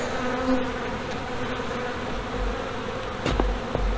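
Steady, dense buzzing of many honey bees fills the whole stretch during an open hive inspection, with brief handling knocks and rustles near the end.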